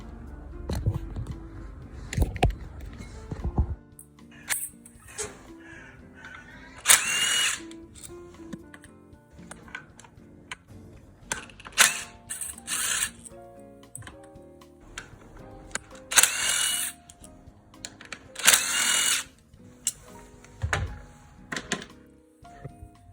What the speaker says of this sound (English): First we have to remove the 10 mm bolts there.